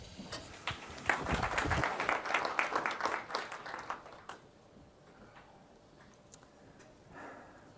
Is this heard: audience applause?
yes